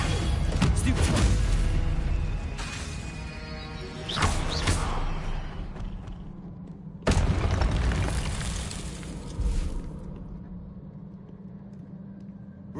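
Stupefy spell impacts in the Hogwarts Legacy video game: several heavy booming blasts with crackling bursts, each swelling then fading, spaced a few seconds apart over a low rumbling backdrop.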